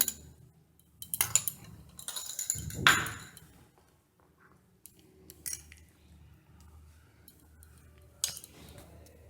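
A spoon mixes an egg into chicken pieces for dragon chicken in a bowl, giving soft scattered clinks and scraping taps at uneven intervals, close and fairly quiet with no talking.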